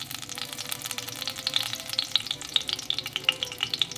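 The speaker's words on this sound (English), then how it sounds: "Place your salmon flesh side down. That sizzle?" Steady crackling sizzle of salmon frying flesh side down in a hot cast iron skillet, with sharp spattering pops scattered throughout, close and fairly loud.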